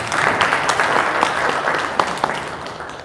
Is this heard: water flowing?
no